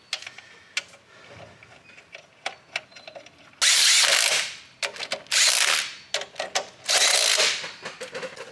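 A power tool whirs in three loud sustained bursts while bolting on a 6.0L Power Stroke alternator during a KC Stage 2 turbo upgrade, separated by ratcheting clicks and metallic taps of work on the engine.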